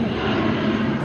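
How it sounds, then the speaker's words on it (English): An Air New Zealand airplane passes overhead on New Zealand's South Island, a loud steady engine drone filling the whole moment. "Another airplane."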